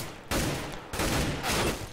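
Gunfire in Counter-Strike on the de_mirage map: two loud bursts of rapid shots, close and harsh, separated by a short gap, with no voices.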